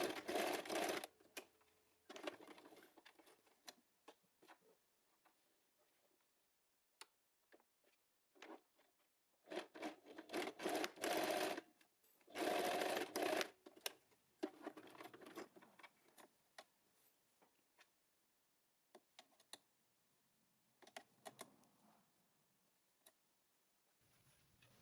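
A sewing machine stitching and reinforcing the seams of a fat-quarter fabric Christmas gift bag, in quick close rattling runs that start and stop several times and go quiet between passes, with no one talking.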